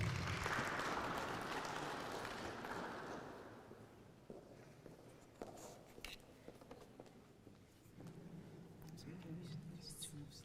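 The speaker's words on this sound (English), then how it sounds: "Let's give a round of applause for Megdes." A conference audience claps in a broad wash of applause that fades out over several seconds, followed by faint rustling and a speaker talking quietly into the room.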